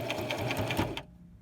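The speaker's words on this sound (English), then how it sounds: "Let's come forward. And then let's sew back." A sewing machine runs a short burst of rapid back stitches across a fitted fabric face mask, an even close mechanical chatter lasting about a second and then stopping abruptly.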